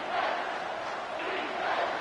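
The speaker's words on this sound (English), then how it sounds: "And the crowd coming to life here" Football stadium crowd at an LSU game swelling into loud, sustained cheering and roaring as the defense holds in the red zone, a dense wash of voices filling the whole stretch with no single speaker standing out.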